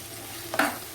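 Tomato drops into a frying mixed-vegetable kurma in a pan over high flame. A low background sizzle bursts into a louder, brief hiss and clatter as it hits the hot oil and is stirred.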